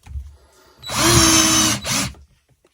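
A Parkside 20V cordless drill with a Forstner bit boring into a piece of wood, a loud close whine that rises, runs steadily for about a second, dips briefly and resumes before stopping.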